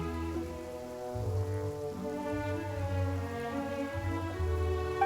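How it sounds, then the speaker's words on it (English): Steady rain falls in a video game cutscene, a soft even patter heard throughout, layered under a sustained, gently shifting musical score with no speech. "One's thoughts drift easily while standing alone in the rain."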